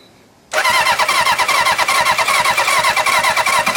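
A barn-find Honda 750 Hondamatic motorcycle cranks after a moment of quiet, its starter churning in a fast, even rhythm, loud and close with no voices.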